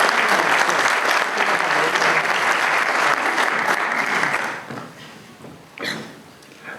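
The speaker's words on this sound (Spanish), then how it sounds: "Un fuerte aplauso." Loud, dense audience applause at a talk event welcoming the evening's guests, a sustained close wash of clapping that fades out after about four and a half seconds, leaving a few stray claps and room noise.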